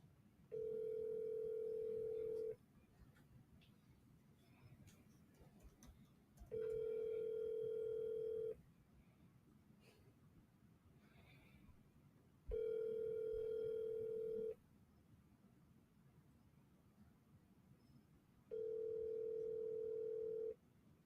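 A telephone call rings out toward voicemail: a steady ringback tone sounds in four evenly spaced two-second bursts with quiet gaps between them, and no one speaks.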